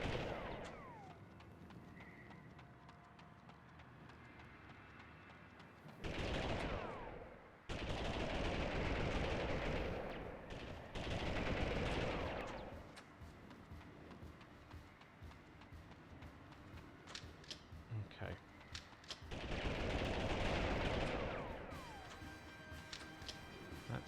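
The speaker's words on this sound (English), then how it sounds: "that's an automatic rifle" Bursts of automatic rifle gunfire from the Army Men 3D video game, several loud sustained volleys separated by quieter stretches of game noise.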